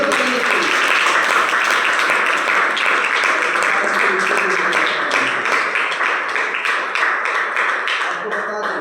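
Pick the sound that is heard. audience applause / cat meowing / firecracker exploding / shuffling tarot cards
audience applause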